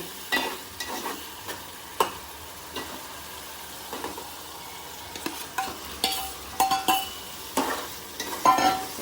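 Mandeli fish being stirred into cooked tomato curry in a pan, with soft scraping stirs and a faint sizzle at an uneven rhythm throughout, close and fairly quiet, with no talk.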